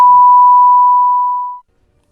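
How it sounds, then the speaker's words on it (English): A single loud, steady electronic beep holds one pure tone for about a second and a half, then cuts off into silence. "Apologise about that beep"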